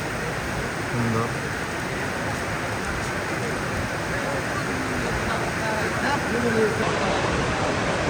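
Heavy rain falling at Cox's Bazar, near the railway station, makes a steady, dense hiss that stays even and unbroken throughout.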